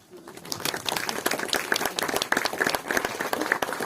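Applause from an audience at the close of an astronomy talk about eclipse observation, a burst of many hands clapping that rises quickly and stays lively, with a few sharper claps and whoops on top.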